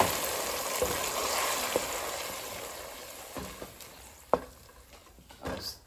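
Crushed fresh tomatoes hit a hot pan with chopped onion for Cameroonian fried beans, a loud steady sizzle that gradually fades, with a few utensil taps and clinks near the end.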